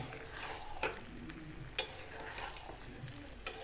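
Boiled mutton sautéing in a pan with a soft, steady sizzle, broken by a few sharp clicks of the spatula against the metal; quiet and close, with no talking.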